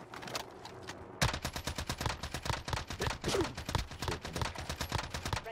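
Rapid automatic SMG fire in Call of Duty Warzone on Rebirth Island, a dense stream of sharp repeated shots starting abruptly after a quiet second and continuing loud and close to the end, with brief exclamations from a player.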